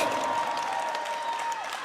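Crowd at a women's under-73 kg strongman stone-lifting event applauds and cheers steadily, a dense wash of clapping and shouts throughout, with a faint tone fading out near the end.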